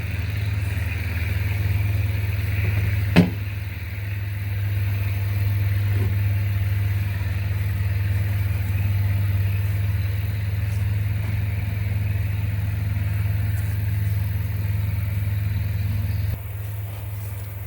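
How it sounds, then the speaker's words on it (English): A tractor cutting hay just beyond a tree line, heard as a steady, distant low engine drone that holds nearly unchanged throughout, with one brief sharp knock near the start. "He's cutting hay right on the other side of the tree line here."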